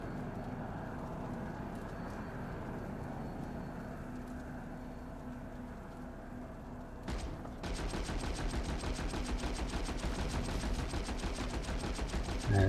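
Continuous distant gunfire from a huge 288-versus-288 online game battle on Amerish, a steady crackling barrage that grows denser and louder about halfway through, with no talk.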